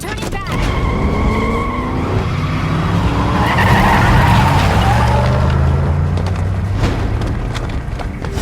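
A vehicle skids through a U-turn in the Metal Gear Rising video game, loud and close, with tyre scrub and engine roar churning continuously over a rumbling mix and a few sharp impacts.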